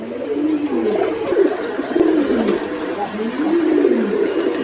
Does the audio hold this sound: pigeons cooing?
yes